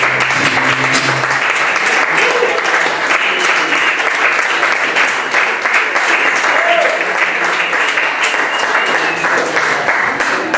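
Sustained audience applause at a gallery music show following a performance, loud and even, with scattered voices faintly mixed into the clapping.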